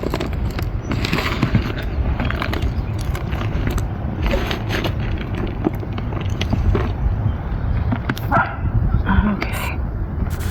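Pet pup barking indoors at home, rapid loud yips and barks packed closely together throughout, mixed with whimpers and some background voice.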